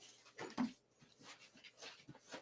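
Dogs indoors whimpering and making soft whiny noises, several faint, short yelps and whines spread across a quiet room.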